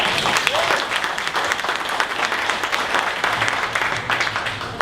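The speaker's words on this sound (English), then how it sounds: "Round of applause." Audience applause at a startup presentation event, a dense continuous burst of clapping heard close and loud for the whole short stretch.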